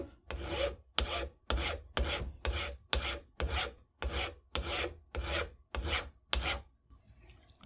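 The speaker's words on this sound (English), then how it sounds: "I'll start shaping with a coarse file" A coarse file rasps in about a dozen evenly spaced strokes, close and crisp, as it shapes a metal loading gate for a Belgian pinfire revolver. A short quiet pause follows the last stroke.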